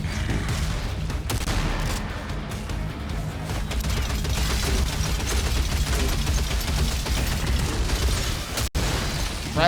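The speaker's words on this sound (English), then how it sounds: "There's a freaking Gatling dude up there." Sustained Gatling gun fire rattles on in Gravelord, a dense unbroken barrage of rapid shots layered with game effects over nearly ten seconds.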